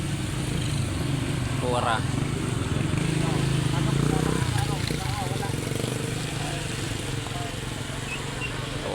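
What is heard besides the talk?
motorcycles passing on road near collapsed bridge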